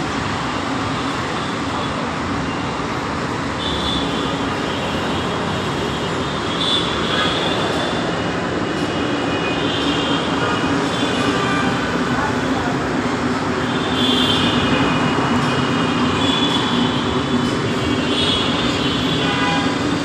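A metro train at Bijoy Sarani metro rail station, Dhaka, heard as a continuous loud rumble with faint high squeals and surrounding traffic noise, no speech.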